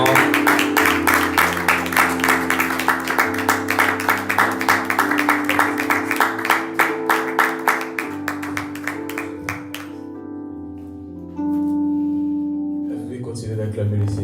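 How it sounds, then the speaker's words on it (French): A church crowd at a Sunday service claps in steady rhythm along with live music, sharp evenly spaced claps over sustained instrumental chords, fading out after about ten seconds while the music carries on. "Shadrach Mandata, sous nos applaudissements."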